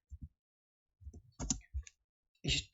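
A few sparse keystrokes on a computer keyboard while SQL code is typed: isolated clicks and short bunched taps with silent gaps between them, close and fairly quiet, with no talking.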